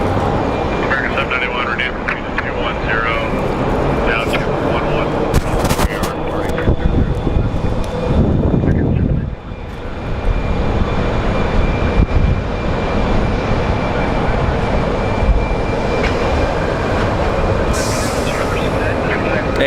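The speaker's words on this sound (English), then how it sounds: "So that is a Boeing 737 MAX." Boeing 737 MAX airliner passing at Phoenix Sky Harbor airport, a loud sustained jet roar with rushing rumble that swells and persists, mixed with wind and background chatter.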